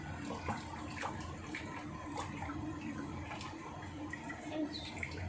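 Water is thrown and splashed around a bathroom in repeated irregular bursts over a steady running-water wash, fairly close and moderately loud.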